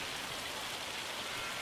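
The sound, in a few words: hail falling in video game Farming Simulator 25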